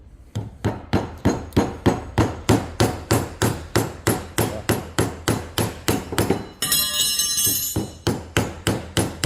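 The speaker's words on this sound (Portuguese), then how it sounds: "Eu vou bater aqui com o martelo na traseira." A hammer strikes the back of a nail puller to drive it into wood, about two dozen rapid, evenly spaced loud metallic blows, briefly broken by a ringing scrape before the hammering resumes.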